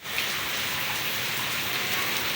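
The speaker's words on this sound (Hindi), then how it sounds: "तो मैंने सोचा नहीं था अभी इतनी माशाल्लाह प्यारी बारिश होने लग पड़ेगी" Heavy morning rain pours steadily onto surfaces, a dense continuous hiss of drops close by, with no voices.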